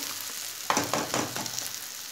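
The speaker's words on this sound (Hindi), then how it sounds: "हम इसको इस तरह से फ्राई कर लेते हैं" Drumstick flower chorchori frying in a wok, a constant sizzle with a few scraping stirs of a spatula, close and steady.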